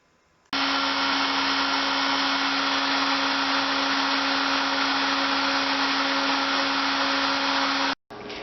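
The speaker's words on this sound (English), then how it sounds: "is a CNC machine cutting out a piece of PCB" A CNC machine routs out a piece of printed circuit board: a loud, steady whining drone with a constant pitched hum starts abruptly, runs for several seconds, then cuts off sharply, heard close with no talking.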